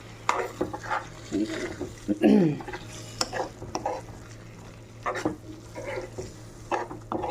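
Prawns being stirred into a cashew and tomato paste curry in a pan, with scraping spoon strokes and a soft sizzle in bursts, close and moderately loud, no talking.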